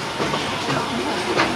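Western River Railroad steam train running at Tokyo Disneyland, a steady rumbling roll with soft hissing and faint clatter of the cars, moderately loud and continuous.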